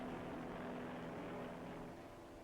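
A 1941 New Zealand bomber aircraft dives toward its target, its propeller engines producing a loud, steady, close droning roar that slowly fades slightly.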